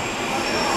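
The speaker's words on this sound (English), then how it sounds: "This is the Northern Line train, terminated at Edgware." A London Underground Northern Line tube train between Waterloo and Euston roars on inside the tunnel, a loud, dense and steady rumble of wheels and carriage noise with faint squeal and no break.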